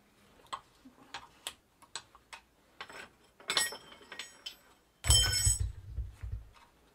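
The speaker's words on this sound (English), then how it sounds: "More ball bearings are coming up" Small steel ball bearings spilling out of a greased bicycle cartridge bottom bracket as it is taken apart, a close series of sharp metallic ticks and clinks, ending in a denser clatter with a low handling thump.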